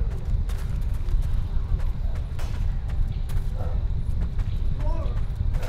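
Horse hooves clip-clop at a steady walking rhythm during mounted combat in the video game Chivalry 2. Game sound effects and some talk run over them.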